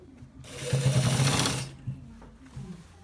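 A sewing machine stitches the end part of a designer shirt with buttons, a loud steady whirring run of about a second that winds down, with softer mechanical clicks after.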